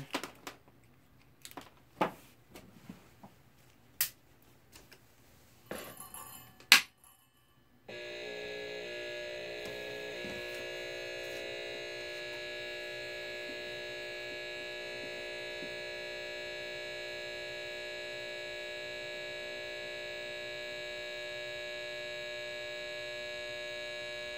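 A high pressure sodium lamp, its ballast housed in the base and padded with cotton, sets up a loud, steady electrical hum with a buzzy edge that holds unbroken after a few sharp clicks and knocks.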